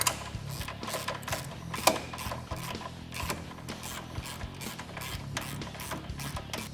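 Tie rod end bolt and nylock nut being tightened on a Can-Am Maverick, a steady run of quick metallic ratchet clicks with a sharper clank near the two-second mark, close and continuous for about seven seconds.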